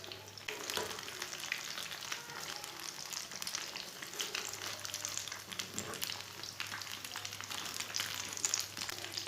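Vegetable kebab patties (tikki) frying in a pan, a continuous close sizzle with crackling pops and occasional faint scraping, steady and moderately quiet with no voices.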